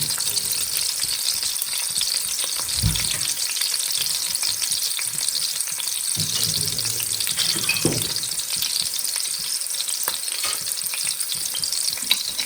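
Loud, continuous sizzling of onions frying in hot oil for mutton karahi, with occasional stirring scrapes and clinks, close and crackling throughout.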